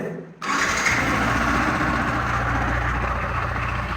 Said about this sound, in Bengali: এখন আমরা এই বাইকটা স্টার্ট দেব এবং এর ইঞ্জিন সাউন্ডটা শুনবো